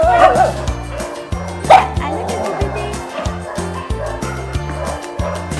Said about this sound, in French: il y a tellement de chiens, c'est fou.